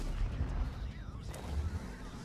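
In World of Tanks, a tank shell lands as a heavy boom and rumbling impact over a busy battle din, with scattered crashes and blasts and a voice talking over part of it.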